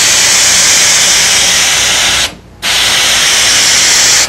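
A powerful blower sprays furniture finish in a loud, continuous broadband hiss that cuts off for about a third of a second midway, then resumes at full strength.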